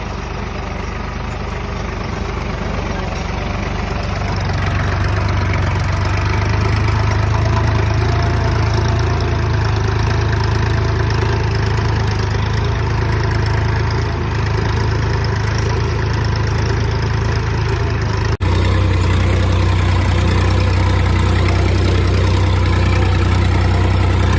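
A Massey Ferguson tractor engine runs under load during a hydraulic lift power test. A loud, steady low-pitched drone builds in the first few seconds and holds evenly, with a brief break near the end and no voices.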